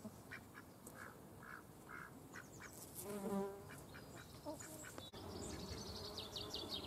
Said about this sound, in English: The bee hotel, absolutely buzzing with life at the moment.